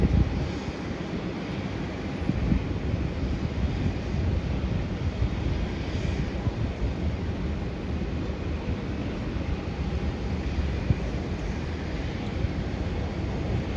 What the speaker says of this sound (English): That's a Jetstar Boeing 787 Dreamliner coming in from Phuket.